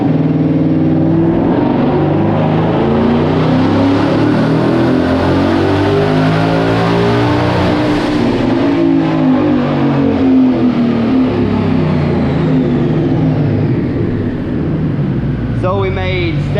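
Twin-turbo 2020 Ford Mustang GT on a dyno with 93 pump gas tuning, its engine roaring in a long, loud, sustained wide-open pull. The pitch sweeps steadily upward, then drops, ending with a quick whine or chirp at the very end.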